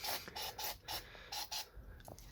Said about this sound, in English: I've just got some super cheap auto degreaser, and just kind of spray it around a little bit so that you can get some of this dirt off.